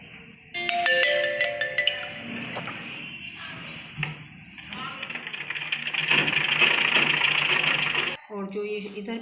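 A sewing machine stitches a seam on a baby frock for a 1–2 year old in a sustained whirring run, with brief handling clicks before it and a sharp stop near the end.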